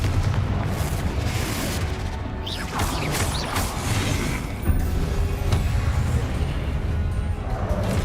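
Confringo fire spell blasts in Hogwarts Legacy, a dense continuous rumble of booming explosions and crackling magic layered with game effects, loud and sustained throughout.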